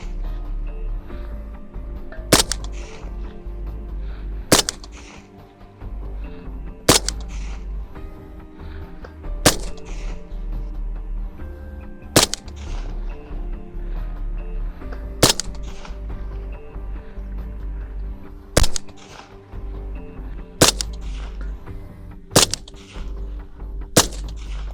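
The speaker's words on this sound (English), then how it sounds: "Definitely a very soft shooting gun as well." Suppressed shots from an 18-inch .223 rifle with a JP buffer system, eleven sharp, loud reports spaced about two seconds apart in a steady rhythm, with low rumble between them.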